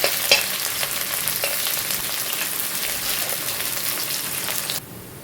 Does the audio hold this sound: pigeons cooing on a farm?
no